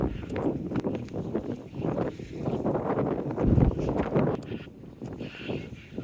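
Gusty wind buffets the microphone on a seafront beside a beach and seawall, a steady broadband rush that swells and dips throughout, with a brief stronger gust near the middle.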